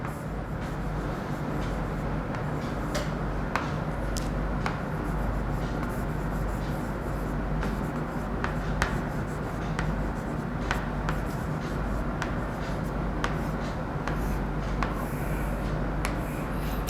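Pen or pencil scratching across paper in a steady stream of short writing strokes, close and fairly quiet over a constant low room hum, with no voices.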